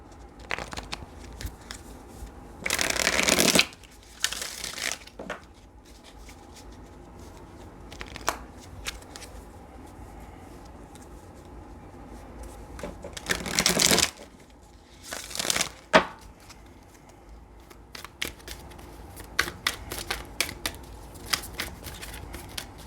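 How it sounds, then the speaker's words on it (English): Tarot cards being shuffled and pulled from the deck, two loud riffling bursts with scattered softer slides, taps and handling noises between them, close by and without talk. "Let's go ahead and pull the clarifying cards now."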